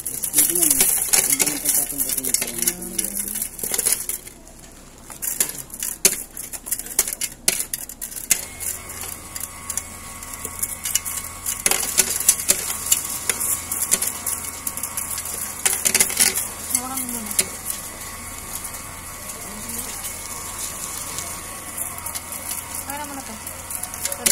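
Coins clatter into a new BSP coin deposit machine: a long run of metallic jingling and rattling, with brief pauses, while people talk nearby.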